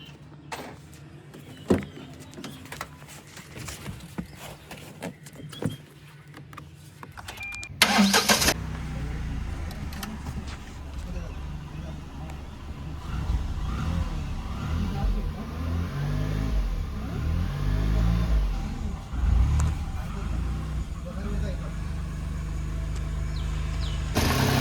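A vehicle engine cranks and fires up after being powered from a direct supply instead of its battery, then settles into a steady, fairly loud idle that carries through to the end.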